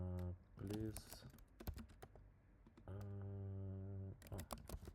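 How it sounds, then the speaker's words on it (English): Soft computer keyboard typing sounds in quick clusters of clicks, mostly under a person talking close to the microphone, at a low overall level. "So I can just type here,"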